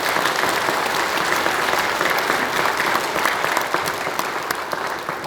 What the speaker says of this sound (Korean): 연합 찬양대와 또 지휘하신 지휘자, 반주자, 또 여기에 반주한 모든 분들 뜨거운 박수 부탁합니다